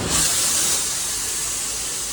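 A cattle special train stands at a station before unloading cows for the Eid livestock market, giving off a loud, steady hiss of escaping air or steam that is strongest at first and then settles.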